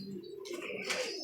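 Pigeons of the kundaa breed coo in a pigeon loft, a steady low murmuring coo running through the whole short stretch, fairly close, with a brief brighter rustle near the end.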